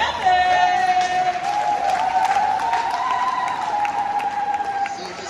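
Congregation clapping during a united churches' mass held at a KKKT church, sustained applause with scattered cheers and a steady sustained tone running beneath, some voices in the crowd.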